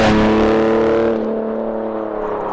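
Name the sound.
BMW E46 330Cd diesel accelerating towards rev limiter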